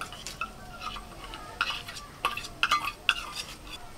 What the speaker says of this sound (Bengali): আমি 100 গ্রাম মতো টক দই নিয়েছি একটু ভালো করে ফেটিয়ে নি